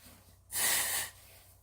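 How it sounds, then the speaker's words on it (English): A single short sneeze from a man during a fiction audiobook reading, a sharp breathy burst lasting about half a second between quiet pauses. "I think I'm about to sneeze"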